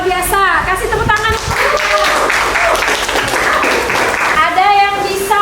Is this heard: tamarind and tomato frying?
no